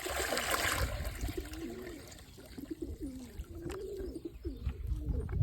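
Pigeons in a loft setup coo in repeated soft, rolling phrases, close by and moderately quiet over a light background wash of water, with no talk.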